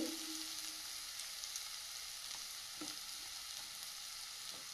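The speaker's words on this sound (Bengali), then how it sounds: "মশলাটা বেশ ভালোভাবে কষিয়ে নিয়েছি।" Ground spices sizzle steadily in a hot pan, a continuous close frying hiss with a few soft stirring scrapes and no voices.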